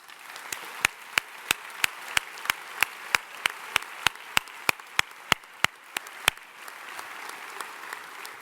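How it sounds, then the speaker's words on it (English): At a 2017 senior graduation ceremony, the crowd applauds the musicians, a soft bed of clapping crossed by one close, loud pair of hands striking in a steady, even rhythm before fading out. "Folks, a nice round of applause"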